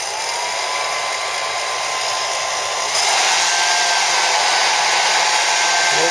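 A heater section powered by a home-made generator blows with a steady, loud hiss, stepping up in intensity partway through and then holding constant.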